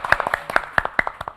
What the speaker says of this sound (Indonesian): Tepuk tangan untuk Mas Budi Prasetyo